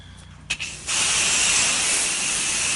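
A garden hose with fairly strong pressure starts up and rinses leaves off a Trex composite deck. It gives a loud, steady, close hiss that keeps going without a break after a brief sputter.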